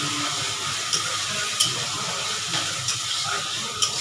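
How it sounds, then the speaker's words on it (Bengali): Eggplant frying with spices in a pan gives a steady close sizzle with brief sharp pops and stirring clicks scattered throughout, with no talking. "এখন বেগুনটি একটু আবার একটু মশলার সাথে ভাজা হোক"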